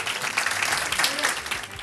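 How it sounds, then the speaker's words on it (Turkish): A studio audience at a quiz night applauds the contestants in a short, dense burst of clapping that stays loud and even throughout. "Kazananlar Kulübü'nü alkışlayalım."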